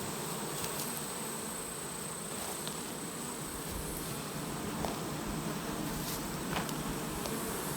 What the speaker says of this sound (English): there's bees all up in the hive at this top one